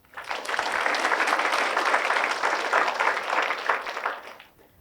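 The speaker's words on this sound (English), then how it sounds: "Clap for yourselves" Participants in a session clap for themselves, a rapid flurry of applause swelling in quickly, holding steady at moderate loudness, then fading out after about four seconds.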